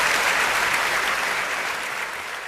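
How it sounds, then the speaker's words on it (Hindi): Audience applause at a Hindi poetry recital: a loud, dense wash of clapping from a crowd, steady throughout and easing slightly toward the end. "तालियां जोरदार वाली बजाओ।"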